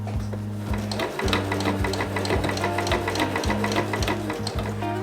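A sewing machine runs steadily along the seam of a baker boy cap, its needle thumping in a fast, even rhythm with a few brief pauses, loud and close.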